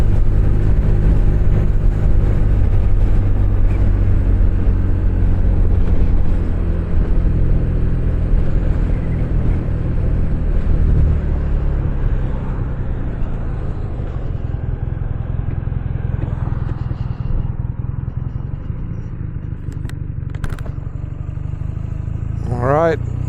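A 2023 BMW R nineT motorcycle ridden to work, its engine rumbling loud and steady throughout with road and wind noise, easing slightly toward the end.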